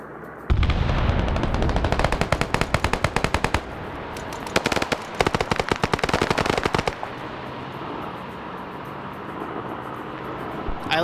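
Rapid machine-gun fire in a military video game, loud sustained bursts of automatic shots with a short gap, then fading to a rumbling background.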